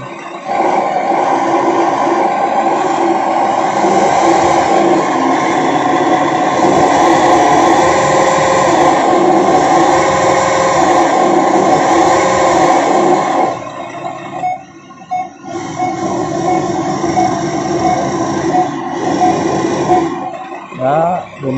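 An RC Hino dump truck drives in second gear, its electric motor and gearbox producing a loud, steady whining drone that runs for a long stretch, briefly drops away, then picks up again.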